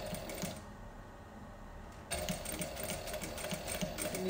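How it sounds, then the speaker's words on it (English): A treadle sewing machine stitches through fabric with a steady, close mechanical whir and rhythmic clatter, pausing briefly before running again more loudly. "Now I'm going to put my feet on the treadle very gently and turning the wheel forward such that the needle is inside the fabric."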